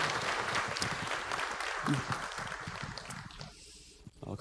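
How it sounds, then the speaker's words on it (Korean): A worship-service congregation claps together in praise, a broad steady wash of applause that fades out toward the end. "모두 함께 하나님의 영광의 박수 올리겠습니다."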